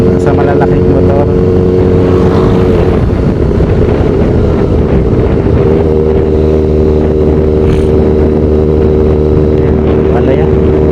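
A Kawasaki Ninja ZX4RR motorcycle on a relaxed ride hums with a steady, close engine drone mixed with heavy wind buffeting, while a rider talks over it.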